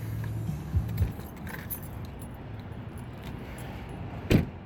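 Car keys jingle briefly in a couple of close metallic bursts near the start and again near the end, over a quiet outdoor background beside a river.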